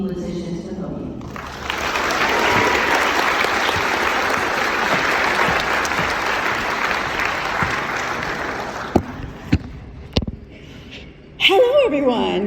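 A commencement audience breaks into sustained applause for about eight seconds as a speaker is welcomed to the podium, fading into a few scattered claps before a voice begins speaking.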